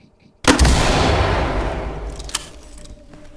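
In the tactical shooter Ready Or Not, a single loud, close gunshot cracks out after a moment of quiet, then booms and rolls away in a long reverberant tail, with a faint later click.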